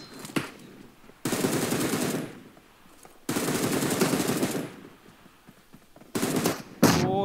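Sustained bursts of automatic gunfire from PUBG Mobile, three long loud volleys separated by brief pauses, with a short final burst.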